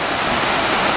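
Sea waves roll in at the entrance to the Tel Aviv port on a sunny day, a steady, loud broadband wash of surf with no voices.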